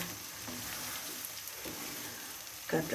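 Whole garlic cloves fry in hot oil and are stirred for a mango pickle, giving a steady close sizzle with soft scraping stir sounds and a louder crackle near the end.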